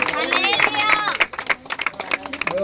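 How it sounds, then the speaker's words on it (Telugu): An audience claps together at a Christmas celebration, with dense overlapping claps under a hum of crowd voices and some tonal sound, the applause thinning into scattered claps toward the end. "ఉత్సవాతి అని అందరూ గట్టిగా చప్పట్లు కొట్టాలి"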